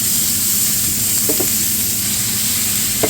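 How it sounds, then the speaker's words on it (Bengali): Onion and capsicum stirred in hot oil in a pan while cooking chicken meatballs, a steady close sizzle with a few soft spatula scrapes and no talk. "লবণ, ক্যাপসিকাম, পেঁয়াজ সব কিছু একটু ভালো করে নাড়াচাড়া করে"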